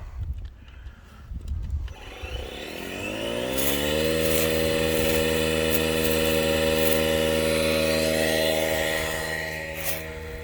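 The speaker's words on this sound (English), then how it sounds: "Good little compressors. These DeWalt compressors grew great." A DeWalt air compressor motor spools up over a couple of seconds and settles into a loud, steady mechanical drone close by, tapering slightly near the end.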